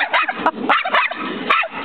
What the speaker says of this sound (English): as you can tell, Rocco has a very, very, very high-pitched bark